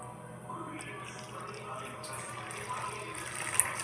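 Water is poured gently into a bowl of flour mixed with turmeric and salt, giving a faint, soft, steady trickle heard close up in a quiet room.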